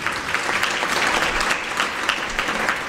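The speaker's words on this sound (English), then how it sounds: "Can I request a round of applause?" Audience applause at a women's dialogue event held at a university, with steady, dense clapping from a sizeable crowd that stays loud and even for the whole stretch.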